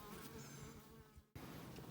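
A honey bee buzzes steadily near the hive, a close, thin drone that cuts out briefly partway through and then resumes.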